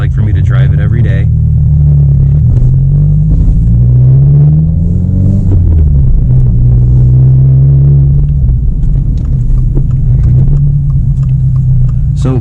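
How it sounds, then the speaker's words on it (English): Steady, loud low engine and road rumble from a lowered 2022 Subaru WRX on White Line Performance springs, continuous throughout with gear-like pitch sweeps and a faint background hum. "So now I'm just gonna drive for a little bit"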